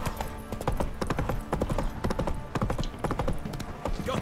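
Horse hooves clip-clop at a steady trot in The Witcher 3: Wild Hunt, a close, even rhythm of sharp hoof strikes continuing throughout.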